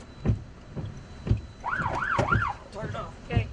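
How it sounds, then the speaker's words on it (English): A storm chasers' vehicle siren warbles up and down in quick repeated sweeps during a Kansas tornado, somewhat distant, amid regular low thumping beats. "So we sounded the siren."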